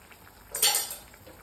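A spoon stirs garam masala into mushroom curry in a pan, giving one brief, soft metallic scrape and clink over a faint sizzle.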